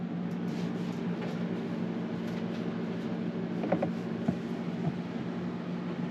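A white TV wall mount's swivel arm inside a trailer is moved, giving a few faint creaks and small metallic clicks over a low, steady hum in a quiet room.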